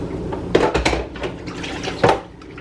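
Breakfast dishes being hand-washed and loaded into a dishwasher, with ceramic clinks, rattling cutlery and a faint trickle of water. A few sharp knocks stand out near the start and end, with no talking.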